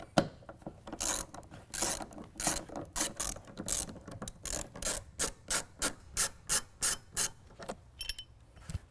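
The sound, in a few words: T50 Torx bit removing truck bed tie-down cleats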